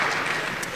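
Brief burst of audience applause during an interview with playwright Tony Kushner, steady dense clapping from a crowd throughout, fairly close and even in level.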